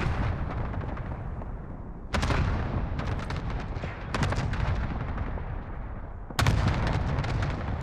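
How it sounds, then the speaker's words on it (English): Cluster strike explosions in the Call of Duty: Modern Warfare video game: three heavy booming blasts land in sequence, each a sudden loud burst that rumbles and decays, followed by a final louder impact. "Allied cluster strike arriving."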